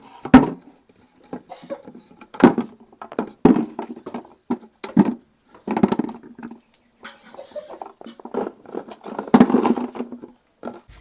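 Gunda berries dropped into a tin container for pickle, landing in separate clattering bursts with short pauses between handfuls, close and fairly loud.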